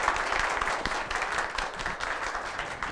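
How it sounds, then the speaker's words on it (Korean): Applause from a party audience in Gwangju welcoming a National Assembly member to a political academy lecture, a steady dense wash of clapping held at an even level throughout. "큰 박수로 다시 한번 맞이해 주십시오."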